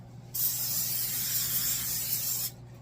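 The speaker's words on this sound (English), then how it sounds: "I'm going to give it a little bit of a spray, not much." A single steady hiss of cooking oil spray lasting about two seconds, close and fairly loud, starting and stopping abruptly.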